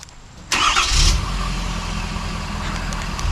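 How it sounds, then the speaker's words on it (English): A large diesel engine in a Ford F250 Megaraptor pickup cranks and roars to life after a short quiet moment, then settles into a steady, loud, rumbling idle. "let's fire this up just to hear that diesel"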